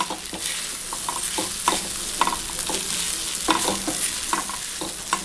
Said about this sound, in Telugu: ఈ వెజిటేబుల్స్, ఈ మ్యాగీ ఇవన్నీ కూడా చక్కగాను మనము ఇలా ఫ్రై చేసుకోవాలండి